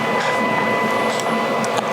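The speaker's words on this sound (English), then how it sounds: "And then I print the actual file." A Canon LBP-623cdw colour laser printer runs a print job on wood paper with white toner, giving a steady close mechanical whir with a faint high whine and brief clicks.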